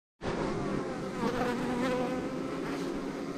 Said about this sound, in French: Donc là on voit qu'il y a un frelon asiatique